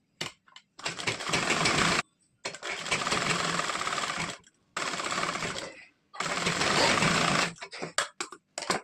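A sewing machine stitches a blouse seam in three long, steady whirring runs separated by short pauses, followed by a few brief stop-start bursts at the end; close and loud, with no talking.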